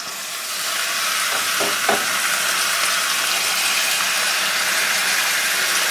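Chicken pieces, skin side down, fry in a pan for a chicken-with-vinegar dish, giving a steady loud sizzle throughout with a couple of brief clinks near the start.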